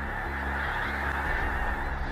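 A dense chorus of waking geese honks continuously, loud and overlapping, a raucous flock calling all at once with no pauses.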